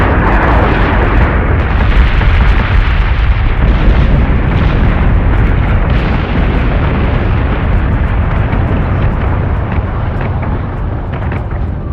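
A ship taking heavy fire in the space combat video game Battlestar Galactica Deadlock, with loud, continuous rumbling explosions and impacts that pound on without a break.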